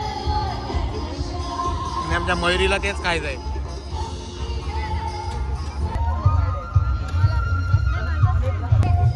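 Festival crowd bustling around a potato twister food stall at a Panvel festival, a steady murmur of voices and movement with nearby people talking over it throughout.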